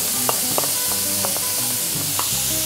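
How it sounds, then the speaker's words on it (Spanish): Shredded beef sautéing with cilantro and onion in a pan makes a dense, bright sizzle throughout, punctuated by repeated spoon scrapes and taps against the pan. "Salteamos un poquito más."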